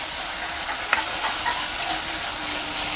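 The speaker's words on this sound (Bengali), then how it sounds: "আমি মশলাটা কষিয়ে নেব। দেখুন আমি পেঁয়াজ বাটাটা দিয়ে দিলাম, ওর সঙ্গে এই রসুনের পেস্ট" Onion and garlic paste fries in a pan for prawn malai curry, giving a steady close sizzle and hiss with a few soft stirring scrapes over the top.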